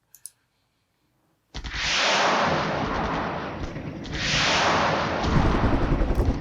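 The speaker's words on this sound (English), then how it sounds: "Let you guys see some missiles shoot off here." Missiles launching in the Flashpoint Campaigns Southern Storm wargame: after a short click and a moment of silence, a loud, sustained roaring blast rushes in, swells again midway, and ends in rapid rumbling bursts.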